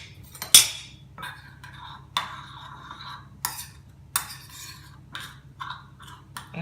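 Spoon scraping and clinking in a bowl while mixing a mango bruschetta topping, a run of close, sharp clatters and scrapes spaced through the clip, with no talking.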